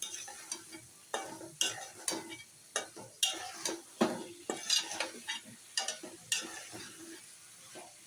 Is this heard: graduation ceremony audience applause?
no